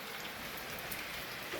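Steady rain falls outside at night in the mountains, heard through an open door as a dense, continuous hiss of drops with no pauses or voices.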